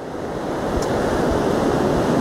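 Wind blows at the seaside in Zoutelande, Zeeland, on a September evening, a steady, loud, rushing roar blended with surf-like noise and no voices.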